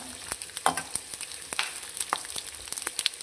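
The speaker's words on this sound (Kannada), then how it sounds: "ಈ ರೀತಿಯಾಗಿ ಫ್ರೈ ಮಾಡ್ಕೊಳ್ಬೇಕಾಗುತ್ತೆ" Spices such as cloves and cardamom frying in a pan for vangibath, a continuous bright sizzle broken by crackles and pops, with the clatter of stirring, close and steady.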